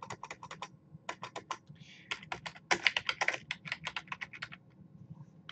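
Rapid, steady typing of search terms on a computer keyboard, close-up and crisp, with continuous clattering keystrokes and a brief pause midway; no talk over it.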